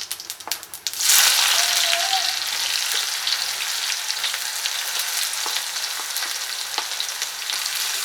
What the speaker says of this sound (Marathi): कांदा आता तेलामध्ये भाजून घेऊया चांगला कलर येऊपर्यंत